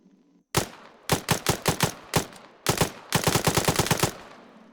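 A weapon from a British forces mod in the Arma 3 video game fires loud, close shots, first single rounds and short bursts, then a rapid automatic string, with sharp gaps between groups.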